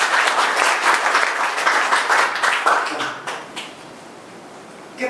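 Congregation at a Sunday church service applauds together, a dense sustained clapping that thins and fades toward the end, with a few scattered claps trailing.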